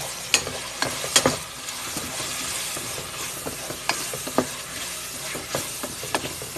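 Frozen chili, onion and garlic sautéing in a pan, a constant sizzle broken by repeated sharp scrapes and clinks of a spatula against the pan, close and moderately loud.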